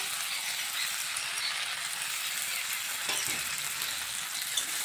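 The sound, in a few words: tomato and ground spices being fried in a pan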